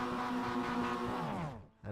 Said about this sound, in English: We can hear some revs.